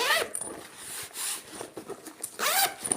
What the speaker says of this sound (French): Il y a une fermeture ici encore également.